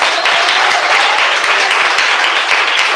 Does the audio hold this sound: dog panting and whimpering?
no